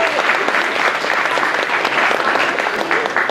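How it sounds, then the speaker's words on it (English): An audience gives a steady round of applause, many hands clapping densely and evenly throughout, with crowd noise mixed in. "Can we give them another hand of applause?"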